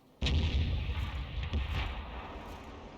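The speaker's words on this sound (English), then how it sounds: "We just saw an enemy shell, Arty shell, fly straight through the camera" An artillery shell explodes in a tank video game, a sudden loud boom followed by a rumbling, fading roar with a couple of faint distant pops.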